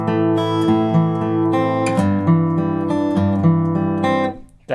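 Guitar fingerpicking pattern from a song, played as a steady run of arpeggiated notes with a top melody note repeatedly cut short, close and clear with no voices.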